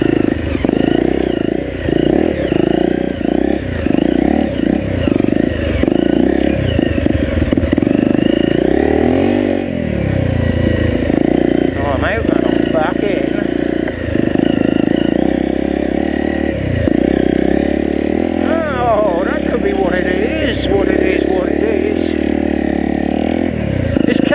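A Honda CRF250L rides uphill off-road, its engine close and loud throughout, revving up and down repeatedly with clatter and scraping from the rough ground.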